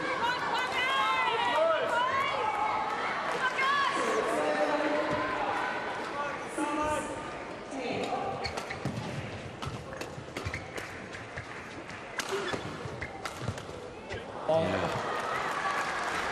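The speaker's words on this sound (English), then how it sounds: "Listen to the crowd now" Crowd roaring and cheering at a Commonwealth Games badminton mixed team quarter-final, Malaysia against Scotland, a loud sustained wash of voices that swells and dips through a tense rally, with commentary talk over it.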